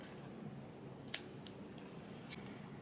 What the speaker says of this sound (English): so that I can cut it short